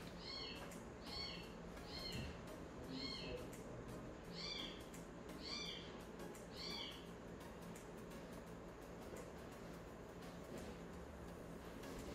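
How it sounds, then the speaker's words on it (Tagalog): A cat meows repeatedly in the background, about seven short high calls spaced over the first seven seconds, faint behind steady broadband noise. "Maingay yung pusa natin."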